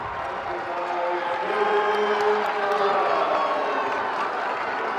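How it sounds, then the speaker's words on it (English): A crowd claps and roars at the Bergen Catholic vs St. Joseph Regional basketball championship. The noisy gym swells with cheering voices over the applause. "Everybody's clapping."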